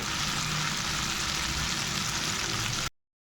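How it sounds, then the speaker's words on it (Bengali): Potatoes frying in a Kashmiri chilli powder spice mix give off a steady, close, dense sizzle. It runs unbroken for about three seconds and then stops abruptly, with no talk. "এবার আলুটা দিয়ে দিচ্ছি দিয়ে আলুটা দিয়ে মশলাটাকে কষাবো"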